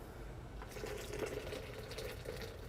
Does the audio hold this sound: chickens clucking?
no